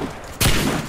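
A single sudden shotgun blast goes off in a video game, loud and close, with a short rumbling tail after the sharp hit.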